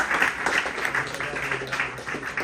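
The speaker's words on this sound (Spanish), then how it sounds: "un aplauso para José Javier Esparza también" An audience at a bookshop talk applauds, a brief patter of clapping mixed with voices speaking over it.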